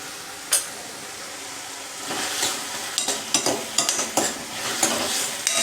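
Mustard seeds sizzle and pop in hot oil in a pan while methi bhaji, a Maharashtrian fenugreek dish, is cooked. A steady frying hiss is broken by sharp, irregular crackles that grow more frequent toward the end, close and fairly quiet.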